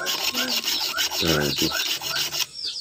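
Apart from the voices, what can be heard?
filing to sharpen a rusty saw's teeth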